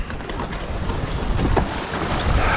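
A boat motors past with a low, rumbling engine drone that swells louder, mixed with wind buffeting and water noise.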